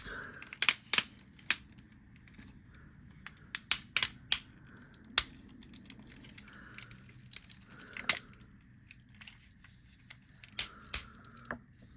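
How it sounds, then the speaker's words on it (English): Ratchet joints on the legs of a Transformers Combiner Wars Onslaught toy give sharp, scattered clicks, some in quick clusters, close up and fairly quiet with no talk over them. "the ratchet makes the legs go up like that, and like that"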